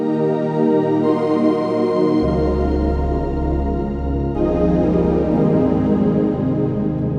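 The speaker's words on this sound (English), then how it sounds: "the third part is the Infinity pad right here in Alchemy 2." A wide, airy Alchemy 2 Infinity synth pad holds evolving chords, with a deep bass tone entering partway and the texture brightening later; steady and continuous, no talking.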